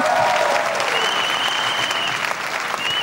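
A studio audience at a televised talent-show gala applauds a contestant with loud, dense, sustained clapping from start to finish, while a thin, steady tone runs through the middle.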